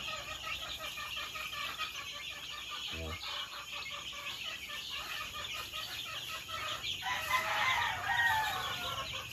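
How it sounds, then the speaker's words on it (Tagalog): Chickens and chicks cluck and chirp continuously in a dense, fairly close chorus, with a rooster's crowing rising among them toward the end and no talking. "Healthy chicks."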